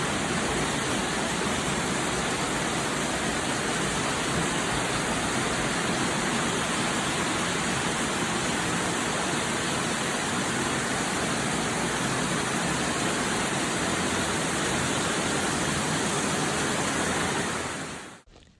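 Heavy rain pours down in Jamaica, a loud, dense and unbroken hiss that holds steady throughout and cuts off abruptly at the end.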